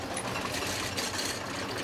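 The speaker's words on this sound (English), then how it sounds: "the uh, big rooms are done on the sewing machine" A sewing machine stitches brooms in a broom-making shop, giving a steady, continuous mechanical whirring and clatter at close range, with no voices.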